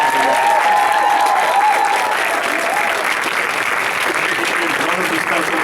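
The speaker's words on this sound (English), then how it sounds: "Let's have one more round of applause for the terrific and amazing" A theater audience at a film Q&A applauds steadily and loudly, a dense continuous wash of clapping that holds at full strength throughout, with a faint whistle-like tone drifting in early on.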